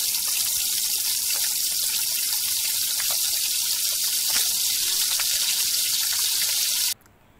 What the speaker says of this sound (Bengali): তেলটা মিডিয়াম গরম, আমি এর ভিতরে দিয়ে দিলাম আমার চিকেনগুলি।